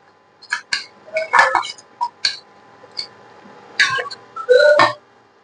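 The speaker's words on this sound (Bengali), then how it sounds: "মশলাটা আমার ভালো করে নেড়ে চেড়ে নিতে হবে।" A spoon scrapes and clinks against a pan while spice paste of onion, ginger and garlic is stirred for a fish jhal, in irregular, close, sharp taps with short pauses between them.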